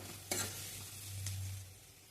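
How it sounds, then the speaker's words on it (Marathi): Hot tempering poured over steamed poha and stirred in, giving a soft sizzle with a couple of brief scraping strokes, close and fairly quiet. "आपली फोडणी तयार झालेली आहे ती आता वाफ आलेली पोह्यांना पण त्या पोह्यांवर टाकून घेऊया"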